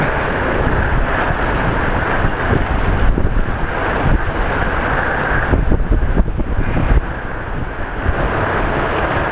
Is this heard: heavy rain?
yes